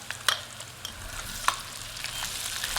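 Gnocchi fries with sliced garlic in a pan, a steady sizzle broken by occasional sharp scrapes and taps of a utensil, close and fairly loud.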